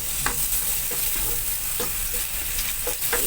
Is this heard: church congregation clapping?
no